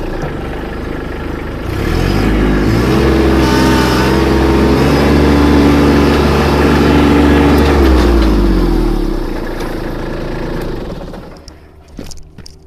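A farm tractor pulls a Conestoga beater manure spreader, its engine rising to a steady loud drone that holds, then drops away as it slows near the end, no voices.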